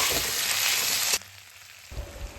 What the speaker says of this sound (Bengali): এটা সামান্য একটু ভেজে নেব